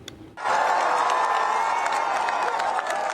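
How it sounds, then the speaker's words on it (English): A large crowd cheers and applauds Pope Francis at his first public appearance after five weeks of double pneumonia, the roar starting abruptly and holding loud and steady with scattered whoops and shouts. "Hundreds of people cheer as Pope Francis is seen for the first time in public"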